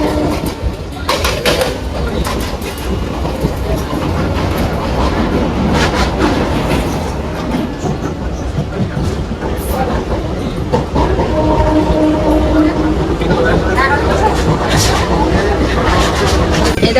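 Inside a moving local train heading to Howrah, a steady loud rumble with rhythmic clatter of wheels over rail joints fills the carriage, while passengers' voices and chatter run throughout.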